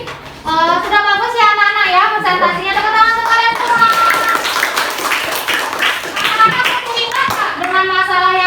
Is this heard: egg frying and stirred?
no